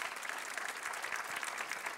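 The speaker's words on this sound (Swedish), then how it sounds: "Så en stor, stor applåd och massor med kärlek till er." Steady audience applause filling a gala hall at a Malmö health event, a dense continuous patter of many hands with faint crowd murmur underneath.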